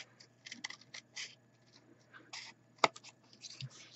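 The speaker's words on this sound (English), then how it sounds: "you're just going to cut away the middle piece to create a pouch like that" Scissors cutting paper to shape an envelope pouch, a quiet series of short, crisp snips and rustles in close, small bursts with no talking.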